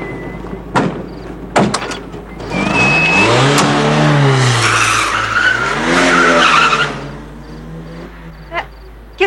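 A stolen car pulls away in a 1974 French film scene, with a couple of sharp door-like knocks, then a loud engine revving up, wavering in pitch as it accelerates, easing and surging again before fading.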